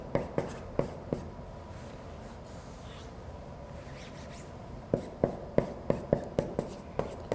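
Pen writing by hand on paper during a maths homework solution, a quiet scratching with soft rhythmic taps, a few strokes at the start and a quicker run of strokes near the end.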